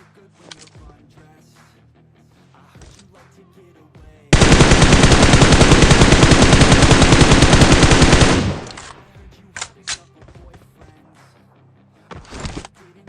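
Sustained automatic gunfire from PUBG Mobile, a dense loud rapid burst lasting about four seconds, with quieter game ambience and faint sounds before and after.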